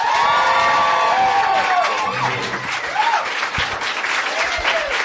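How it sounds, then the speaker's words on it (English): Audience at a live podcast taping in New York claps loudly and continuously for a guest, with whoops and cheers on top. "Please put your hands together for our very special guest, John Hodgman."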